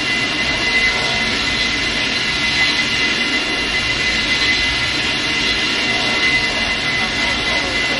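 Steady, loud roar of airplane engines inside a military video game aircraft, a constant jet drone filling the whole stretch without letup.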